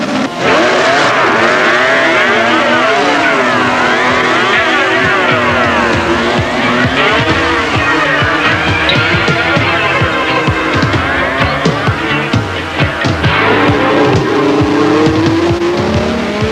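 A 1980 ground-effect Formula One car running practice laps at the British Grand Prix, its engine loud and close with rising and falling revs and repeated gear changes that sweep up and down through the whole passage.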